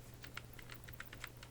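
Quick, crisp keystrokes on a computer keyboard clatter in an uneven run of about a dozen taps, close and clear over a faint steady hum, with no voices.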